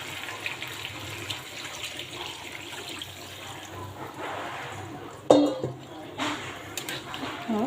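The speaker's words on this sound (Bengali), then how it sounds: "আমি এখন জল দিয়ে দিব।" Water runs and splashes into a pot of braised meat and boiled potatoes, a steady pour with a sharp clatter near the end, while someone speaks alongside.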